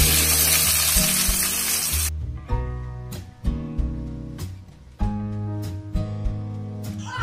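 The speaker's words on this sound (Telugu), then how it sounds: "ఇదే కడాయిలో ఉల్లిపాయలు వెల్లుల్లిపాయలు వేసుకొని వేయించుకోవాలి" Onions and garlic fry in hot oil in a kadai, with a loud, dense sizzle up front that settles into a steadier crackle beneath recurring music.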